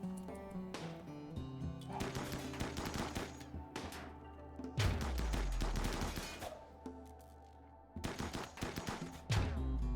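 Colonists firing on a mechanoid in the RimWorld video game, with dense bursts of rapid gunfire in several loud volleys separated by brief lulls, close and continuous without talk.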